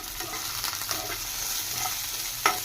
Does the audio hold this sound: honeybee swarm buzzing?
no